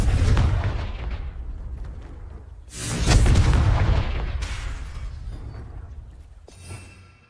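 The Confringo fire spell from the video game Hogwarts Legacy goes off in loud booming blasts, a deep explosion followed by a second heavy burst that rumbles and fades, then a smaller pop.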